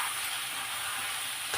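Rayalaseema-style boti curry of goat tripe frying in a pan gives a steady, even sizzle up close, ending with a brief sharper scrape of a stir, with no talking.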